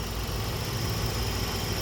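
A Toyota Vios with a 1.5-litre gasoline engine and manual transmission idles close by, giving a steady, smooth low hum with a faint high whine running through the whole stretch.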